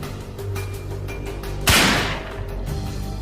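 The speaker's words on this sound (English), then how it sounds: "Hidden on the other side of the gun is a battery-powered mechanism that creates a small explosion at the end of the barrel" A battery-powered mechanism hidden in a magician's prop gun sets off a small explosion at the barrel, one sharp burst that rings out and fades over a steady background hum.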